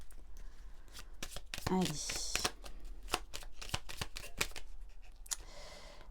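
A small oracle deck with feather cards is shuffled by hand, with a burst of riffling followed by a rapid series of crisp card slaps close by, and a person speaks briefly near the start.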